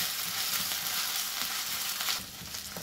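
Onions sautéing with ginger-garlic paste in a pan for mutton biryani, a steady, dense close-up sizzle that holds level throughout with faint stirring underneath.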